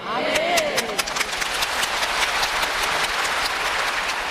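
A church congregation claps steadily and densely throughout, with a preacher's voice briefly audible at the start.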